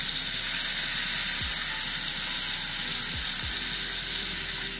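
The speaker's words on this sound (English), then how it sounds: "We'll flip the steak now. We'll cook this side for a minute or so." A steak sizzles steadily in a hot pan as Steak Diane cooks, a loud, even frying hiss with a few low thumps from the pan as the meat is turned.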